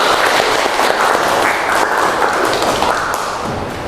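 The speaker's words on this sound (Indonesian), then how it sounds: "Oke, tepuk tangan lagi." Dense, loud audience applause fills a room at an education graduation event, a steady, continuous wash of many hands clapping close by, holding level throughout with no speech over it.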